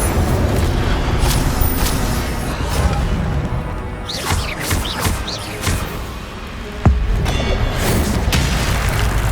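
An Incendio fire spell cast in Hogwarts Legacy, a loud whooshing burst of flame with crackling impacts and a sharp boom near the end, sitting among other spell effects.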